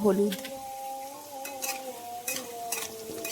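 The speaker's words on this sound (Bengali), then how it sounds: "হলুদ লবণগুলো আলুর সঙ্গে মিশিয়ে নিচ্ছি।" Potatoes being stirred with turmeric and salt in a pan, a spoon scraping and clinking through the pieces in repeated strokes over a light sizzle, close and fairly quiet, with a short hum of voice at the very start.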